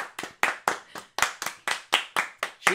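Sharp hand claps repeat in an uneven rhythm, about a dozen distinct slaps in a few seconds, close and crisp with a short decay after each one.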